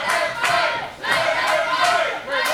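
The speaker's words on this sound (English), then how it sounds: "The crowd chant, let them fight." A wrestling event crowd chants in unison, rhythmic roaring bursts of many voices rising and falling in repeated waves across a busy arena.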